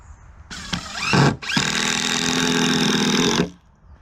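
Cordless power drill driving a screw into the wooden frame of a garden raised bed, a brief rev and stop followed by a steady two-second whine as the screw sinks in, close and loud.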